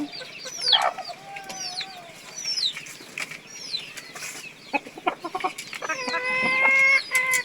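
A large eight-month-old native rooster crows and clucks close by, with repeated harmonic calls, wing flapping and other birds chirping around it on a small farm.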